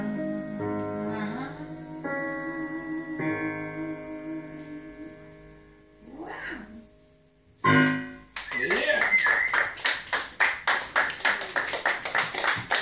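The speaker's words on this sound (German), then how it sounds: "Müder Applaus da draußen." Audience clapping with uneven, somewhat tired rhythm, following sustained musical tones from a stage performance; claps are loud and close, continuing for several seconds.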